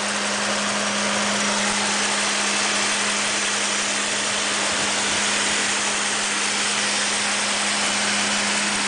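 A 1987 Mercedes W126 420SEL engine runs at a steady idle, a loud, constant drone with a strong low hum and airy rush lasting nine seconds, with no voices.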